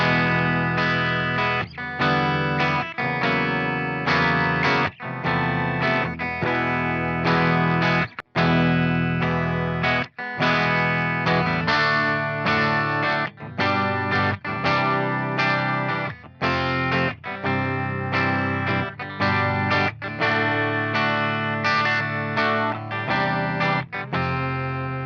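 Guitar played through a Revv G20 amp into a 4x12 cabinet, a steady stream of strummed chords and picked notes over 25 seconds, full and even in level with only brief breaks.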